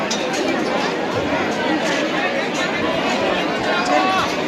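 A large crowd waiting in line at Salangpur temple makes a dense, loud, continuous hubbub of many overlapping voices.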